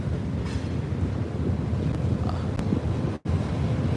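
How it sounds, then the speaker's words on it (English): A train passes close by outdoors, its steady low rumble filling the clip at constant loudness, mixed with wind buffeting the microphone and with one brief dropout near the end. "we got a train coming through."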